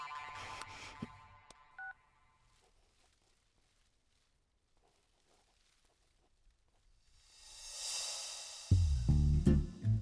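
A telephone keypad is dialed, a quick burst of touch-tone beeps at the start, then near silence before a louder tonal ring and thumps at the end.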